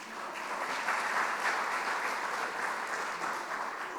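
An audience claps during a keynote address, a steady, dense burst of applause that swells and holds for several seconds, with no one speaking.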